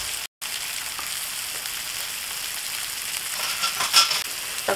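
Pork chop frying in a little oil in a pan for barbecue pork chops, a loud steady sizzle with crackling spatters, briefly cut out near the start and rising slightly toward the end.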